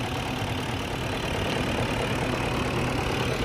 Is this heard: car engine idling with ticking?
yes